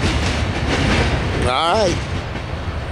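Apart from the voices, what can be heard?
Norfolk Southern grain train of empty hoppers passing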